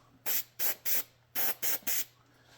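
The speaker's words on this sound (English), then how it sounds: "I'm gonna get some control cleaner out right now and spray the pots down and the jacks" Control cleaner sprayed onto the pots and jacks of a vintage Camelot (Teisco) GA3T guitar amplifier, six short sharp hissing bursts in two groups of three, close and clear.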